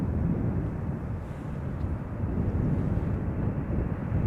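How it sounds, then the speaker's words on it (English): A United Airlines Boeing 767-400 departs, giving a loud, dense jet roar that stays steady and close. Faint wind buffeting mixes in, and no one speaks. "United Airlines Flight 71, it's the 767-400 again, going to Newark."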